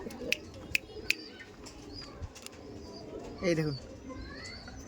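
Madras pigeons in a loft give a short, throaty coo near the end, preceded by a few sharp taps or wing clicks, with someone talking over the loft's background murmur.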